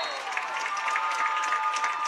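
A home crowd at a Holliston varsity high school football night game cheers and applauds after a Panthers touchdown, a dense, steady roar of clapping and shouting filling the stands without pause.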